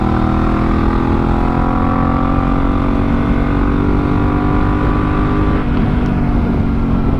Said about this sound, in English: that's a couple laps on the Honda CRF1000L Africa Twin, outfitted in police trim